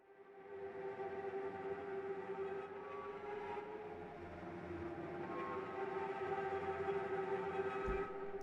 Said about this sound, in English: And we have the travelling trems.